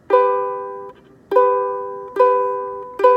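Two ukulele strings, the bottom pair, strummed together four times in a steady rhythm, each chord ringing out clearly and decaying before the next, close and alone.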